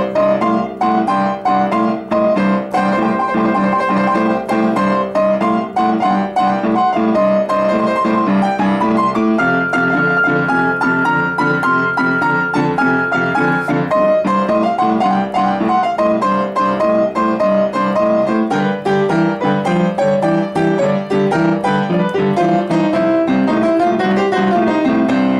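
Loud piano plays a bouncy boogie-woogie blues riff, a rolling left-hand bass pattern under repeated right-hand chords and runs, continuing steadily without talk.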